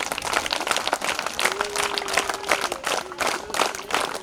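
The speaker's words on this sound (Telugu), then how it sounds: "మల్లన్న గారికి మనం అందరం స్వాగతం చెప్పాలి చప్పట్లతో" Government school students at a shoe distribution event in Vangapally clap together in a dense, continuous round of applause, many hands close and loud with a faint voice beneath.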